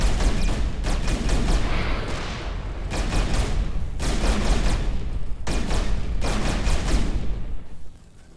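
Ship weapons firing in the Everspace 2 space game, repeated volleys of rapid blasts in several separated bursts of roughly a second each, loud and close, with no talk.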